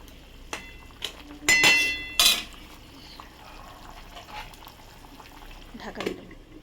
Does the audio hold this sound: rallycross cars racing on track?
no